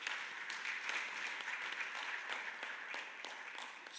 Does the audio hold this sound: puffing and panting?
no